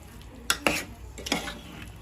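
Spoon strokes scrape through a gram-flour and colocasia mixture in a hot, oily pan, making two pairs of sharp stirring scrapes over a low, steady sizzle.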